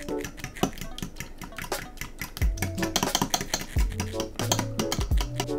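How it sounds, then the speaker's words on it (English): A utensil clicks and scrapes rapidly against a cup while egg whites and yolks are gently mixed together for a Weekend Citron cake batter, a busy close tapping rhythm with a few low thumps. "Don't whisk it, just try to mix the egg whites and the egg yolks together as much as possible"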